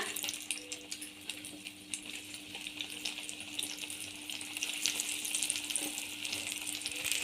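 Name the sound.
bajji fritters deep frying in oil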